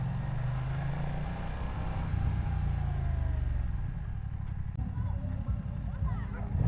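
A BMW F900R motorcycle with its stock muffler runs with a steady low engine rumble and slight revving, close by, while someone talks over it.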